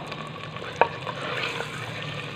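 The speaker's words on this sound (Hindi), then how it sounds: "चिकन को इतना फ्राई करना है कि चिकन का कलर चेंज हो जाए" Bone-in chicken pieces sizzle steadily in a pan with garlic, with a couple of sharp clinks from a stirring utensil over the constant frying hiss.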